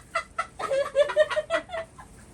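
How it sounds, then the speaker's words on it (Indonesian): A chicken clucks close up in a quick, uneven run of about a dozen sharp clucks, then goes quiet. "Ayam."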